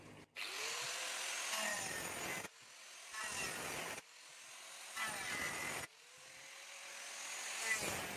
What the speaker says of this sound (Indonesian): di sini saya akan buat menggunakan gerenda agar lebih cepat